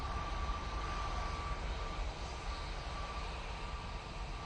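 A passenger jet departing Manchester Airport rumbles as a steady, distant low roar with a faint high whine, constant in level and without voices.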